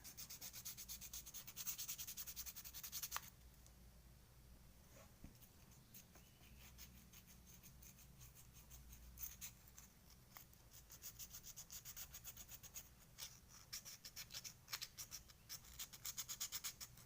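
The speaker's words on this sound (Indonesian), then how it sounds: "Kita haluskan menggunakan amplas. Pastikan semua bagian kita amplas dengan rata" Sandpaper rubs over a diecast model car being smoothed before a repaint, with quiet, close scratchy strokes in repeated bursts, heavier at the start and again toward the end.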